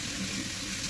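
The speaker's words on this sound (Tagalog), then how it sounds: "Nagbuhos na tayo" Water pours over a body in a shower room, a dense, steady splashing rush close by, with no talking.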